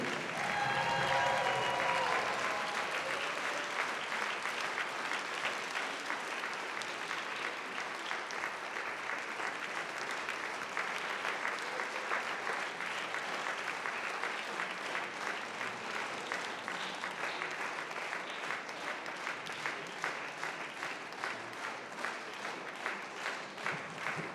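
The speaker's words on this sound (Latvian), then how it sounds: "Un ar mīļiem aplausiem aicinām uz skatuves tā vadītāju Ievu Junzi." Warm audience applause at a folk dance concert in a cultural hall as the dance group's leader is welcomed on stage, steady rhythmic clapping from a sizable crowd, sustained and fairly even, heard alone.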